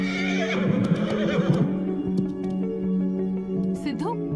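A horse whinnies near the start of a Hindi crime film scene, with further horse sounds over a steady musical drone, voices and hoof noise throughout.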